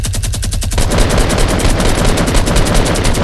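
Loud rapid automatic gunfire from a weapon in the video game Fortnite, a dense continuous burst of close shots lasting the whole moment with no voices.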